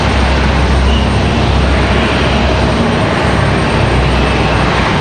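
An Allegiant airliner at Raleigh-Durham International Airport gives a loud, close, continuous jet engine roar that holds steady throughout, heard alone without voices.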